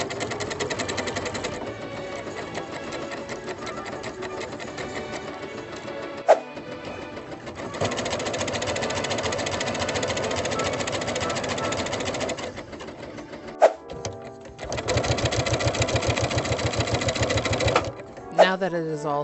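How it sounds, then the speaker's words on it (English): A sewing machine runs in long, steady bursts while sewing French seams and hems on the fabric of a quarter-circle skirt overlay, close and rhythmic, broken by short pauses and a few sharp clicks, with talking heard at times. "now it is time to go French seam everything up and hem it"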